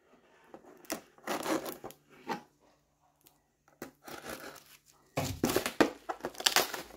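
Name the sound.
cutting open plastic toy packaging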